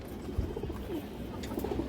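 Soft, low pigeon cooing close by, a quiet murmuring call repeated over a faint background rustle.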